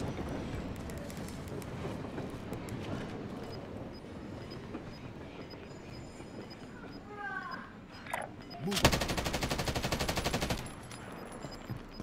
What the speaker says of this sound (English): I was just shooting